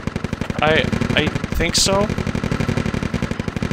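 Rapid, steady automatic gunfire from a military video game rattles continuously throughout, with people talking over it.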